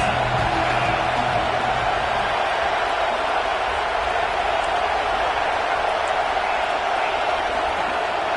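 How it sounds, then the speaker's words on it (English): Steady roar of a stadium crowd at a football game, loud and continuous throughout with no breaks, a dense wash of massed voices. "This crowd trying to make life miserable for this offense."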